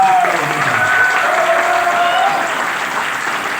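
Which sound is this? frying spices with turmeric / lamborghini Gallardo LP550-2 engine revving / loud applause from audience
loud applause from audience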